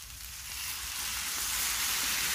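Food sizzles and fries in a pan, a dense, steady hiss that swells a little louder and stays close with no voices.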